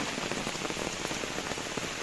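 Heavy rain during a windy storm on a waterlogged road near Mandangad, a dense, steady hiss of drops pattering on surfaces, loud and close with no talking.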